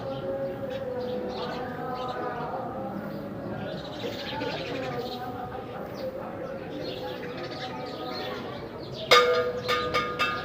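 Birds chirp and coo at a feeding spot at the dargah of Hazrat Sakhi Bodla Bahar, with a sustained tone and voices in the background, then a sharp metallic clatter near the end.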